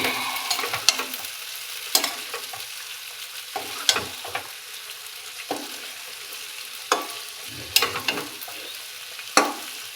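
Meat curry in a pan being stirred and fried, with a steady soft sizzle broken by repeated scraping stirs at an irregular rhythm, close and alone.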